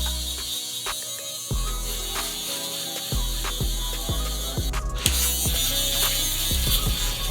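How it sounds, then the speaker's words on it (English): An electric shaver buzzes close up while fading hair during a haircut, a continuous motor hum broken by repeated short strokes as the blade passes over the head. "we use the electric shaver"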